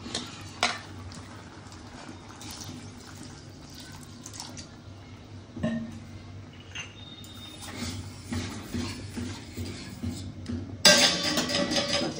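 Water is added to dal cooking in a hot pot. Quiet stirring and faint clinks come first, then a sudden splashing pour near the end.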